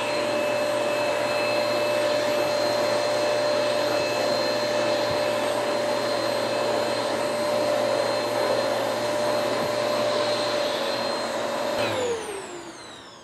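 A Hoover MAXLife bagless upright vacuum cleans stairs with its upholstery tool, giving a steady, loud whine with a high tonal hum close by. It runs without a break until the motor switches off and spins down near the end.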